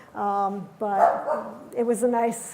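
A dog barks and yips several times in quick succession, close and fairly loud, with a person talking over and between the barks.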